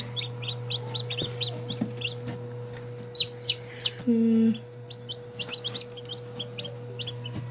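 Newly hatched chicks peep in quick high bursts amid soft clucking, with a steady low hum underneath and a brief louder squawk midway; no one speaks.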